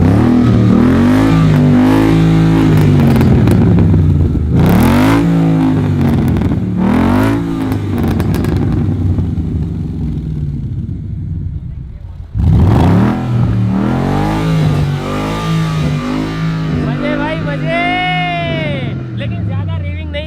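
A Ford Mustang GT sits in neutral with the handbrake on and is revved repeatedly. The loud engine note climbs and falls in several sweeps, with a pause before a final burst of revs.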